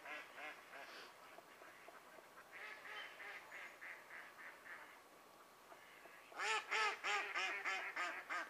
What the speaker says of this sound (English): As you can probably hear, the ducks are going to be fun tonight